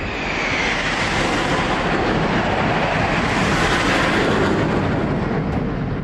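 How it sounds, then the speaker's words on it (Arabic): Formations of fighter jets roar overhead in a loud, sustained rushing wash of engine noise that swells slightly and holds without a break. "تلاقي أسراب طيارات مقاتلة بتشق السحاب بسرعة خرافية"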